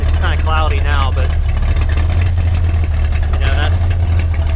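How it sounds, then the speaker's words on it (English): A 1969 Dodge Dart Swinger with a 225 slant six idles through a stock muffler, giving a low, steady, fairly quiet exhaust rumble under someone talking. "that's kind of the exhaust sound. I have it going through stock type muffler, so it's not real loud"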